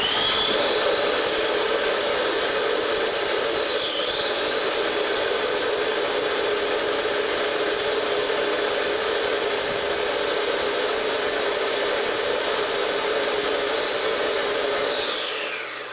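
Steady, loud electric food mixer whirring continuously as it chops carrots for a fish-based recipe, with a slight pitch dip partway through and at the end as the motor shifts.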